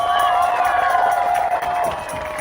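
A soccer stadium crowd cheers for Sarasota Paradise in a steady, loud roar with scattered shouts and whoops that holds for the full stretch, while a voice carries over it.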